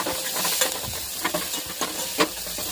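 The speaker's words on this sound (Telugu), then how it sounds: "ఇక బాగా వేయగా కలుపుతూనే ఉండాలి" Maggi noodles fry in a pan over a low flame while being stirred, a steady sizzle broken by repeated scraping strokes of the spoon, close and clear with no talking.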